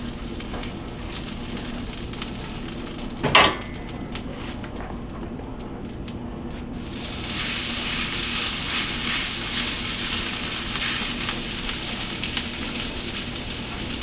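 Hash browns frying in butter on a hot surface, a loud continuous sizzle with a brief scraping stir of a spatula early on, the sizzle swelling louder in the second half.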